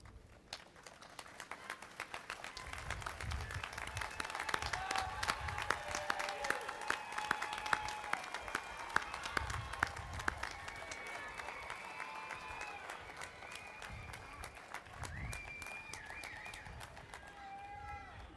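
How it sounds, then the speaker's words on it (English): A spring commencement audience gives a big round of applause for graduates' families, with scattered clapping swelling and carrying on at a moderate distance while voices murmur and chatter throughout. "recognize their commitment to you with a big round of"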